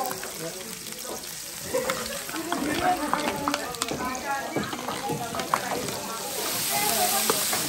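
Chili, garlic and ginger sizzle in a hot pan over a strong flame, a steady crackling fry with scattered pops and occasional stirring scrapes, close and moderately loud throughout, with no talk.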